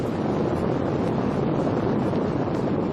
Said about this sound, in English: This is the noise produced by the LEM's ascent engine during a ground test.